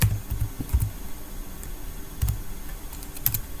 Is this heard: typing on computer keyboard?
yes